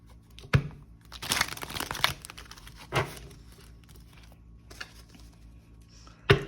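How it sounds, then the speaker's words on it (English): Crisp papery riffling and crinkling in a few short bursts, close by, with quiet pauses between and a sharp tap at the end; no one speaks. "Shuffle one more time."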